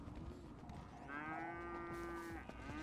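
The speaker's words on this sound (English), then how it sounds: "this is like 20 cows in here" A cow moos in GTA 5, one long low drawn-out call held for about a second and a half over a busy, noisy game background, with no talk.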